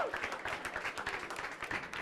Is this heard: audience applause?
yes